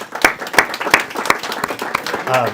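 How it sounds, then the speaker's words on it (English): A small audience at a local history society meeting gives a round of applause, with loud, sparse and uneven claps close by and a voice beginning to speak at the end. "round of applause for Chris"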